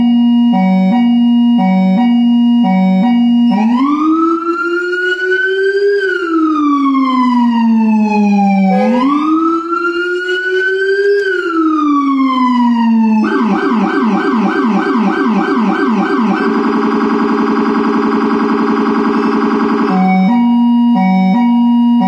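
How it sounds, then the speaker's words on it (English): Federal Signal SSP3000A siren with Rumbler on a custom emergency vehicle upfit cycling through its tones: loud rising-and-falling wail sweeps, then rapid yelp and hi-lo warbling patterns, with short horn-like blasts at start and end, no talking. "And now going through the siren tones."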